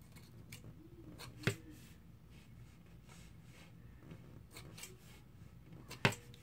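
Scissors snip in a few sharp, quiet cuts with soft rustling between, two louder snips standing out near and clear.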